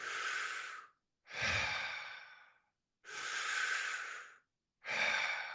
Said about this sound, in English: it's a two-part or connected breathing